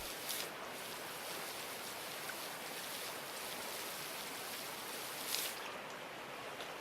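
A gold pan held under a running stream, with continuous water rushing and sloshing close by and a couple of brief splashy surges, fairly faint and steady with no talk.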